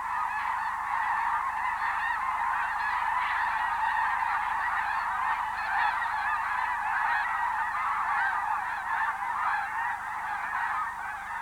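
A large flock of geese honks in flight as they fly in toward a lake, a dense, continuous chorus of overlapping calls at steady loudness.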